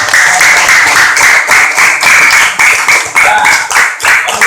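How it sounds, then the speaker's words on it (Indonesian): Steady, dense applause from a crowd of elementary school students in a classroom quiz, many hands clapping at once with no break for the full few seconds. "berikan tepuk tangan untuk"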